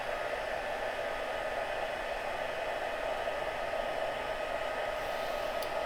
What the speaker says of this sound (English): let's just quickly heat emboss that